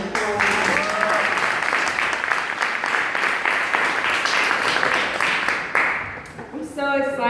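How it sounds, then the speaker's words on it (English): Sustained audience applause fills a room at an empowerment event for ambitious women, loud and steady for about six seconds before thinning, with a voice beginning to speak near the end. "Let's give her a round of applause."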